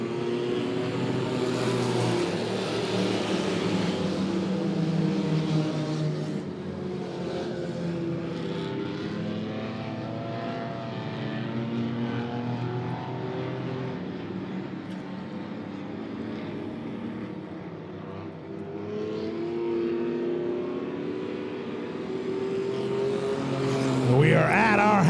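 Stock race cars at a short-track feature race at Monett Motor Speedway accelerate at the green flag, a steady massed engine roar with rising and falling pitch under continuous announcer commentary.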